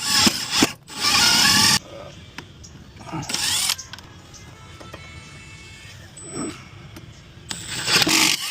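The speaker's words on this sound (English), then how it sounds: "we come up here and we make our pilot hole on our wood" A power drill bores a pilot hole in wood, with several loud bursts of whirring broken by pauses and a person talking in between.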